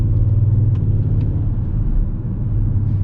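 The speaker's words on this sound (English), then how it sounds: "You can already hear that in the deep RPMs it has a very, very deep rumble like this." Inside a 2020 Audi S6 TDI driving at town speeds, with a steady deep low engine rumble and road noise close and continuous, no talk.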